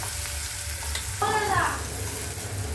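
Finely chopped onion frying in a pan for kanda poha, a steady sizzle with a brief louder hiss partway through as it is stirred.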